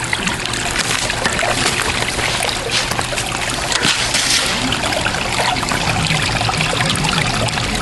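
Water runs steadily through a gold sluice box during a cleanup of paydirt concentrates, a continuous, close rushing and trickling flow with no pauses.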